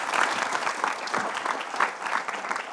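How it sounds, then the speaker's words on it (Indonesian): A studio audience breaks into steady, dense applause for the guest Dewi Persik, a continuous patter of many hands clapping at moderate volume with no voices over it. "Tepuk tangan buat Dewi Persik"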